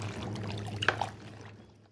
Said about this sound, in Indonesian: Dibilas ngasih bersih.